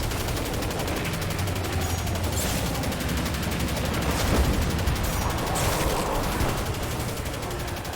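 Rapid video-game gunfire rattles on continuously, a dense, steady barrage of shots and bursts with a few louder booms around the middle, loud and busy from start to finish.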